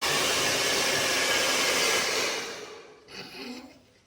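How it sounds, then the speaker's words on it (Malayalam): Hair dryer blowing steadily and loudly on freshly shampooed hair, a broad rushing airflow that holds for about two seconds, then drops off and wavers as the dryer is moved away. "സോ ഗൈസ്, നമ്മൾ ഡ്രൈ ചെയ്തുകൊണ്ടിരിക്കുകയാണ്."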